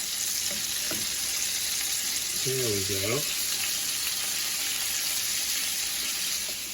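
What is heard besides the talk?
meatballs frying in oil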